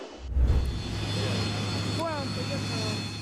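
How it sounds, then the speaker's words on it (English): A Beriev Be-200 amphibious aircraft roars with a steady, loud engine drone, a brief thump near the start and some faint tonal chirps over the continuous hum. "The BE-200 is one of the most powerful amphibious aircrafts in the world."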